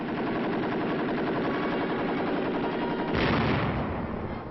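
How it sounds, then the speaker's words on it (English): A .50 caliber aircraft machine gun fires in a military comparison demonstration: a loud, unbroken stream of rapid shots that swells into a heavier burst near the end. "Comparison firing, 50 caliber machine gun. An aircraft machine gun."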